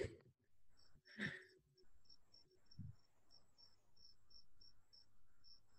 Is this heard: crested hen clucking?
no